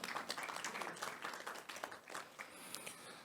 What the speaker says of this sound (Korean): 다양한 의견들 말씀해 주신 분 다시 한번 박수 부탁드리겠습니다